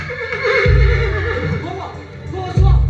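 A horse neighs in a short, strained whinny over a busy backdrop of voices and other noise, with a second burst near the end.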